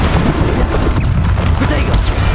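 Bombarda spell explosions in Hogwarts Legacy, a dense, loud rumbling boom with continuous low-end roar and scattered crackling bursts throughout, nearby and sustained.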